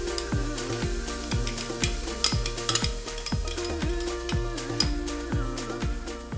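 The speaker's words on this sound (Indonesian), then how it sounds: "Kita akan tumis nih" Ground spice paste sizzles and fries in a hot wok while a utensil scrapes and stirs in a steady repeating rhythm, close and fairly loud, with no voices.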